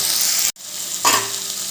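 Frying in a pan with salt and turmeric added, a steady broadband sizzle broken by a brief dropout, then a short stirring scrape before the hiss resumes.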